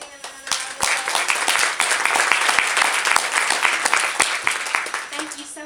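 An audience applauds after a home safety presentation, with close, distinct individual claps forming a moderately loud, fairly dense round that swells and then fades near the end.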